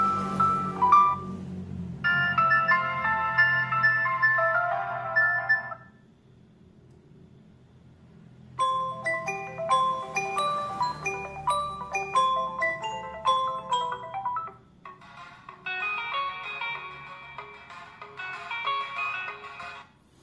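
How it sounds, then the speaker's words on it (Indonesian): Electronic ringtone melodies play in separate bursts through the single mono speaker of a ZTE Blade V40s phone, bright and clear but not very loud, with a brief pause between tunes. "Oke, ini suara ringtone-nya lumayan jernih"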